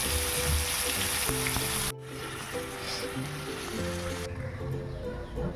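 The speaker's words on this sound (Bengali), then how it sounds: "চিকেনের মধ্যে আলু দেবো, তাই জন্য আলুগুলোকে আগে ভেজে নিচ্ছি" Potatoes frying in oil in a wok for a Bengali chicken curry, a steady close-up sizzle with bubbling crackle that drops briefly in level partway through and continues, no talking.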